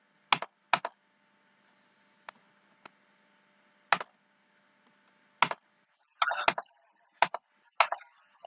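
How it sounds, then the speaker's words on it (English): Keyboard shortcut keys pressed on a computer keyboard, sharp isolated clicks and taps spaced across several seconds with near-silence between them, a few quick double presses near the end. "I'm just pressing Control and V"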